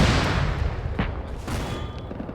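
Gunfire in a military video game aimed at tanks: a dense burst of shots opens the clip, followed by two sharp booms about half a second apart, loud and close, with no talk.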